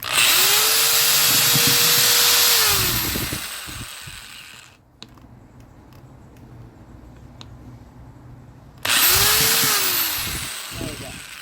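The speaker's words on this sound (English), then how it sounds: "I just stick the drill on the hole, like, you know, the indention where they mark for you to drill the drain holes" A power drill bores drain holes through a plastic garden container, running loud with a rising whine for about three seconds, falling quiet, then starting again for a second burst.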